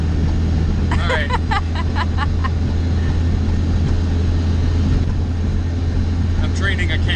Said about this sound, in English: so we're driving the CRX now